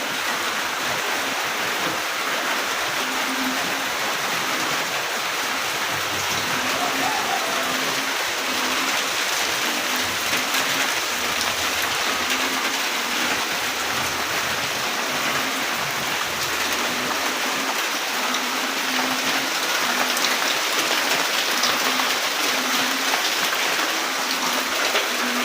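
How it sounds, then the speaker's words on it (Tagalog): Heavy rain pours steadily during Typhoon Odette, a dense, unbroken hiss of downpour on surfaces close by, with a faint low tonal hum running beneath it throughout. "sige gyud pug ulan"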